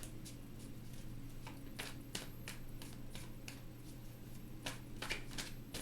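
Tarot cards shuffled by hand in a series of quick papery riffles and slaps, some bursts sharper than others, close and clear over a steady low room hum.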